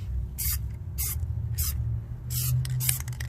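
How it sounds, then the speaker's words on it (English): A spray can lays a coat of glossifier over plasti-dipped wheel rims in five or six short, sharp hissing bursts, fairly close, with a low steady hum underneath. "Make sure you spray where you did the overspray right here on the edges."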